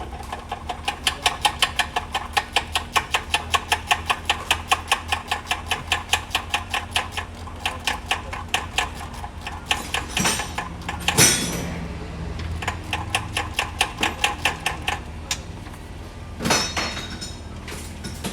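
Rapid ratcheting clicks from a wrench loosening the bolts holding the starter on a 2003–2008 Honda Element, a long steady run of close, even clicks followed by a few sharper metallic knocks and shorter bursts.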